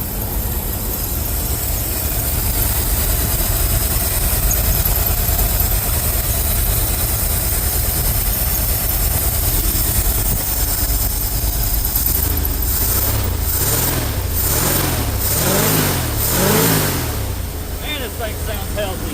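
Ford F350 dump truck engine idling steadily, then revving in several rising and falling surges toward the end, with its idle settling somewhat high.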